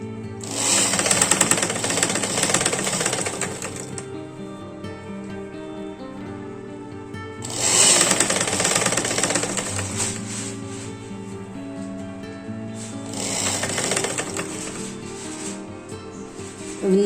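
Electric sewing machine stitching lace onto a designer blouse, running loud and close in three long, steady bursts of rapid needle chatter separated by brief slowdowns.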